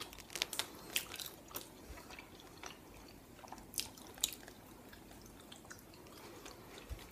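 A hamburger with meat, ketchup and lettuce is bitten and chewed close to the microphone, giving quiet, irregular crunches and wet smacking sounds with pauses between bites and no talking.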